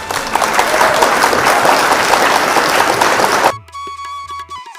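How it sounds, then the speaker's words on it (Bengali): A cartoon audience clapping after a song, dense loud applause for several seconds that stops abruptly and gives way to quiet musical tones. "তার গান শুনে মানুষজন হাততালি দিল।"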